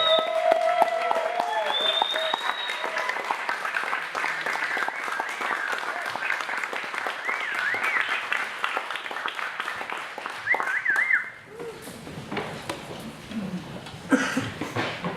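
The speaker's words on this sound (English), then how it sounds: "stand up, clap your hands, give a holler" An audience at a Startup Grind event claps and cheers to welcome the speaker. The steady applause is mixed with a raised voice early on, then thins abruptly near the end before a final burst of claps.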